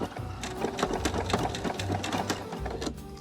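Sewing machine running steadily, stitching quilt binding with white thread, a fast rattling chatter with brief pauses, close and fairly loud.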